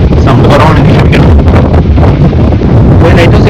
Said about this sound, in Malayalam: നല്ല കാറ്റുണ്ട്, അതുകൊണ്ട് പറയുന്നത് സൗണ്ട് കുറവാണെങ്കിൽ ക്ഷമിക്കണം.